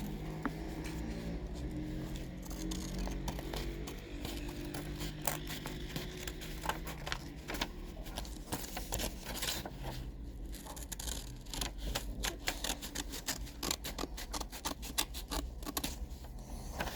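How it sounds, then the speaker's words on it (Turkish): Repeated crisp snips and rustling of scissors cutting through paper while making a mini notebook, close by, steady and continuous with a low hum underneath. "Şimdi Makasla kesiyoruz."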